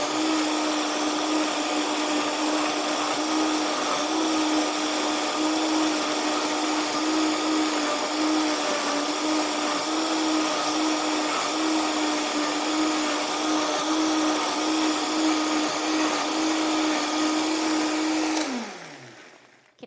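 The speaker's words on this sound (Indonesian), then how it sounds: "Kita blender kira-kira 1 apa 2 menit ya, sampai benar-benar halus ya." An electric blender grinds ingredients for a homemade natural antibiotic into a smooth mix, giving a loud, steady motor whine that holds for almost twenty seconds and then winds down as it is switched off.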